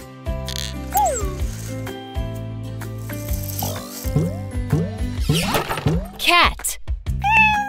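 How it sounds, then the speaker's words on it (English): A cartoon cat meows a few times over bright children's music in an alphabet song for kids, the rising cries coming near the end of the passage. "Cat."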